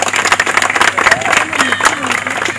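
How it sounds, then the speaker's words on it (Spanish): People gathered to open a new artificial turf field break into close, lively applause, the clapping dense and uneven with cheering and voices talking through it. "Un fuerte aplauso"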